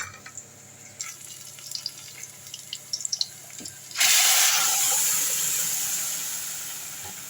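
Lentil sambar mixture for gooseberry sambar poured into a hot kadai: quiet clinks and handling give way to a sudden loud sizzling hiss that gradually fades, with no voices.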